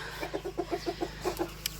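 A white speckled rooster gives a run of soft, rhythmic clucks, about ten quick pulses, fairly faint against a low background hum.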